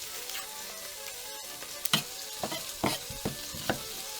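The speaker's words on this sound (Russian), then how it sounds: "Пока мясо жарится" Meat for Flemish beef carbonnade in beer fries in a pan with a steady sizzle, broken by several sharper scraping stirs of a utensil, close and moderately loud.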